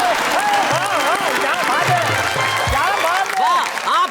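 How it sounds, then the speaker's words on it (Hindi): Studio audience applause, a dense steady wash of clapping that holds for about four seconds, with a voice singing or talking over it throughout. "आप ये मत समझिए कि हमने ये तालियां आप पे थोप दी।"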